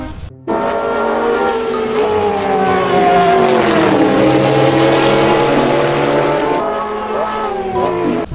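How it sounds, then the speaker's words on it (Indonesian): Toy race car with a loud, whining engine effect that swells and shifts in pitch over several seconds, close and dominant, ending abruptly. "Ini mobil balap."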